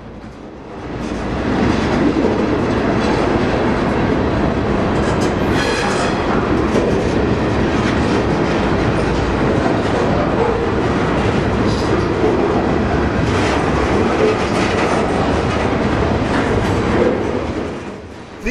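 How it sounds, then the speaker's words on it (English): A freight train of boxcars rolls past close by in Oregon, a long, loud, steady rumble of wheels and rattling cars that fades in and out at the edges. "These are perhaps the best known of the cars on a freight train, box cars."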